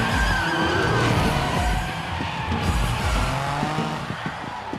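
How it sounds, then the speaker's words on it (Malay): Nissan cars, a Silvia and a 350Z, drift-race with loud, sustained tire squeal over roaring engines, heard close and continuous with pulsing skids throughout. "Sean mencabarnya untuk berlumba menggunakan kereta Han Nissan Silvia. Takashi menang dengan Nissan 350Z-nya"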